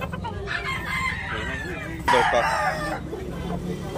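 Gamecock roosters crow at a Tabunok market, one loud nearby cock-a-doodle-doo standing out over other clucking and crowing birds, with a busy murmur of people talking in the background.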